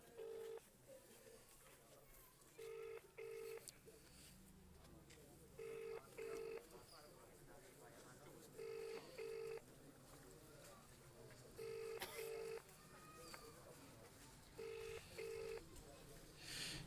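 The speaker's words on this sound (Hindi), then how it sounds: "ये फ़ोन उठा नहीं रहे, एक बार फिर करता हूँ।" An outgoing phone call rings unanswered, the ringback tone repeating in steady paired bursts roughly every three seconds at moderate level, with a faint murmur of voices and room noise underneath.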